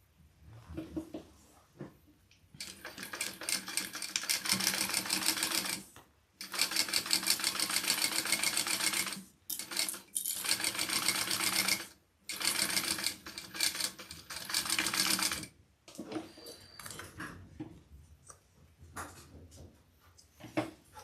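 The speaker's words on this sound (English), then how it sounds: "So right sides together, base and back, we're gonna sew those two pieces." A sewing machine stitching two fabric pieces, base and back, with right sides together, running in several fast whirring bursts of a few seconds each, separated by brief pauses, close and loud.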